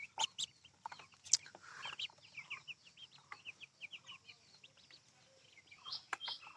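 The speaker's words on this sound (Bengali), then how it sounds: "আর ওই পাশে দেখতে পাচ্ছেন দেশি মুরগি বড় মুরগিগুলো ওই পাশে আছে" Desi chickens on a poultry farm cluck in quick irregular bursts, several birds calling near and farther off against a quiet background.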